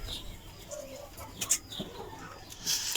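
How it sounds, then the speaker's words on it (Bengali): Broody desi hens in a farm shed give soft, scattered clucks and a few rustling flutters, faint and close, with short pauses between calls. "এখানে সবগুলো মুরগি কিন্তু কুচি এসে পড়ছে"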